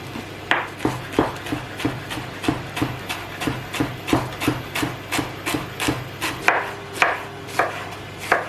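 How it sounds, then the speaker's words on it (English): Cabbage being shredded with a knife on a board after its thicker outer leaves are removed, a steady run of about fifteen crisp, evenly spaced chopping strokes, close and clear over a low background hum. "I'm going to just shred it"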